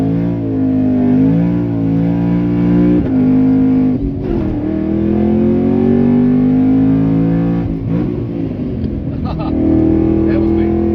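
A 5th gen Camaro with a Tilton ST-246 cerametallic twin-disc clutch misses a gear: a loud, close engine drone whose revs rise, stumble and drop, then climb again.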